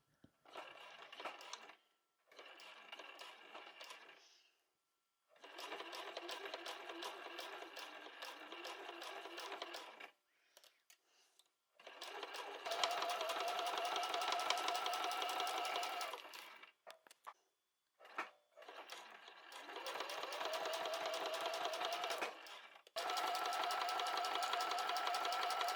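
Domestic sewing machine stitching a large fabric pouch made from 3.5 cm wide fabric strips, running in several loud steady bursts of rapid whirring separated by short pauses, close by with no talking.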